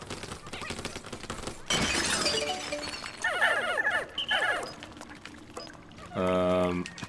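Ice Pikmin tumbling into water in the video game Pikmin 4, a splashing, shattering burst followed by trickling and bursts of high chirping game sounds, with a voice talking faintly in places.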